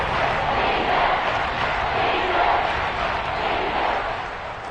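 A football stadium crowd roars in a steady, dense wash of cheering ahead of a big third down, loud and continuous throughout before easing slightly at the end.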